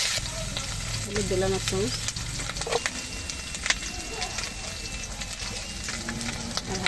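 Spices frying in a pan with ginger paste, cumin paste and green chillies, a steady close sizzle with scraping stirs, under a voice talking.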